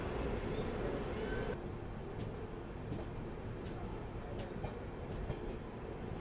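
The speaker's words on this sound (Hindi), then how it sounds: "हमारी ट्रेन जो है वो अब मुड़ रही है कानपुर सेंट्रल वाली लाइन की तरफ।" The Sabarmati Express, running from Ahmedabad to Darbhanga, rolls steadily along its rails in a continuous low rumble, with faint periodic clacks heard from inside the carriage.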